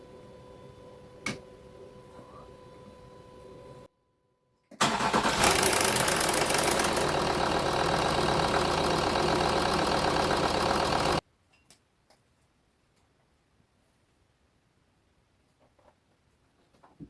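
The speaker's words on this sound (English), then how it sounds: "Engine's all back together and running just fine." A Ford Territory diesel engine, freshly reassembled after a cam belt replacement, runs with a steady, loud, even drone for about six seconds, then cuts off abruptly into near silence.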